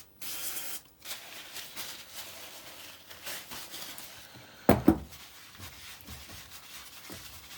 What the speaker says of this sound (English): I'll just hit it with some brake cleaner for now.